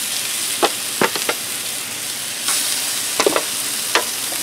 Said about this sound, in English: now we're going to put our pork chops on